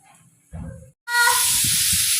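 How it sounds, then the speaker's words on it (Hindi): A pressure cooker in a home kitchen lets out a sudden loud, sustained whistle of hissing steam after a brief stretch of quieter clatter. "लो जी सीटियाँ लग रही हैं"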